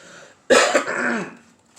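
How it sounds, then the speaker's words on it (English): A single close, harsh cough bursts out and trails off into a rough throat-clearing rasp. "Apologize for all the coughing."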